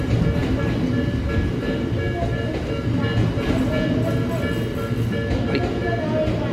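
An out-of-service train on the Tobu Isesaki Line rolls past a level crossing at Takenotsuka in Adachi, Tokyo, a steady loud rumble with rail clatter throughout, close by.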